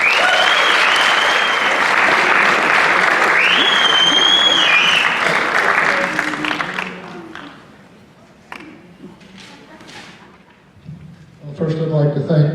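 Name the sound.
audience applause welcoming award recipient Frank Ploof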